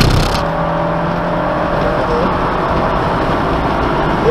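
A car accelerating under hard throttle during a driving session, a loud, steady engine roar that holds close and continuous throughout, with no talk over it.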